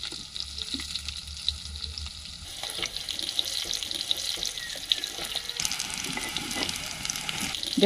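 Small potatoes frying in hot oil, a continuous close sizzle with spatters and stirring scrapes that grows denser and louder after the first few seconds; no voices.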